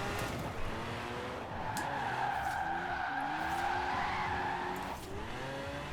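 Tires of a monster truck skidding sideways in Forza Horizon 4, a loud, sustained squeal over a droning, shifting engine tone that fades briefly near the end.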